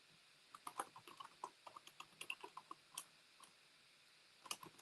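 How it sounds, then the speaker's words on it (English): Fast, uneven typing on a computer keyboard during a live online SQL class, with crisp close clicks in short bursts and brief pauses in between, no talking. "I'm typing another note in the chat."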